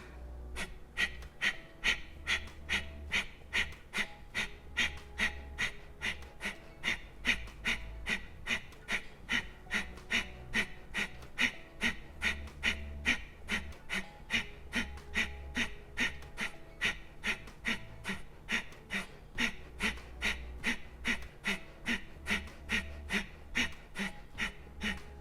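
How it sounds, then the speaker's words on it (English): Rapid pranayama breathing exercise with quick, forceful inhales and exhales, a steady rhythmic series of sharp breaths repeating about twice per second for the whole round, close and alone without talk. "We'll take an inhale and an exhale. And then inhale about halfway and begin."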